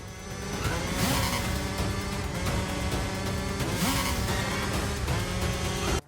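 Driving section of the retro game Terminator 2D: No Fate, a continuous loud engine roar with rising revs and whooshing passes, mixed with game music, with no talking.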